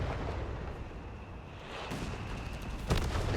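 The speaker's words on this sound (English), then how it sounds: "Panzer IV's opening fire." Panzer IV tanks firing in Company of Heroes 3, sharp cannon booms over a constant rumble of game battle noise, with one shot near the middle and a stronger blast near the end, with no talk.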